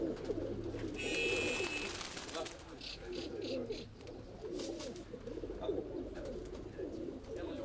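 Racing pigeons coo in a loft as birds return, with low, steady cooing throughout, brief wing flutters and scattered bird calls, while someone talks nearby.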